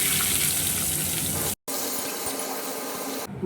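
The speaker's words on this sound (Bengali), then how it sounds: "ফোড়নটা ভালো মতো ভাজা হয়ে গেছে, দিয়ে দিলাম পেঁয়াজ।" Onions hitting hot oil already fried with cumin, chili and bay leaf, giving a bright, dense sizzle that cuts out briefly and resumes at a softer, steady hiss, close by.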